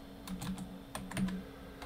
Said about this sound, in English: My typing is atrocious.